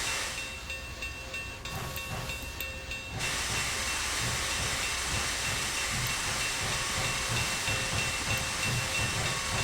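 Union Pacific Big Boy steam locomotive in Train Simulator 2019 hissing loudly and chuffing in a steady rhythm as it pulls away from a depot, a continuous rushing sound with soft whistle tones above.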